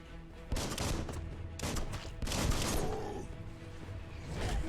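Gunfire from a character's weapon in the action video game Biomutant comes in several rapid, close bursts with brief gaps between them, loud against a constant backdrop of game noise.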